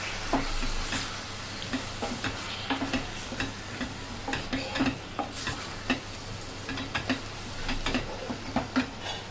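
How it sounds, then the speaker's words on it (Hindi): Three medium tomatoes dropped into a pan of jackfruit curry base with oil, a steady sizzle under repeated clicking scrapes of stirring, close and moderately quiet, no talk. "अब इसमें हम टमाटर डालेंगे। ये 3 टमाटर है मीडियम साइज के।"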